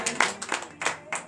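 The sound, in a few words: congregation clapping in acclamation during prayer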